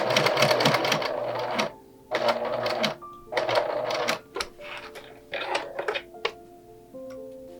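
A sewing machine stitches the seam of doll overalls in several short rattling runs separated by brief pauses, including a quick back-and-forth for a backstitch, with clicks of handling between bursts.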